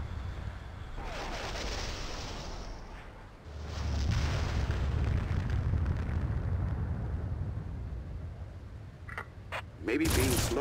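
An explosion blows out a docking bay door in the Red Faction video game. A deep, rumbling blast swells after a quieter stretch and rolls on for several seconds, followed by sharper bursts at the end.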